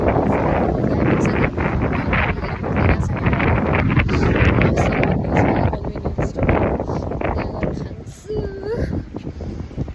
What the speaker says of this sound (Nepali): जापानमा हावा चाहिँ डेन्जरस चल्दो रहेछ